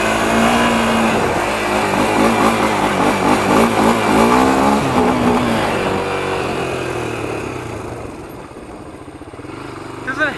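A 1993 Honda 300EX ATV engine revs hard and holds high, wavering pitch for several seconds before dropping back toward idle, loud and close, with a brief knock at the end.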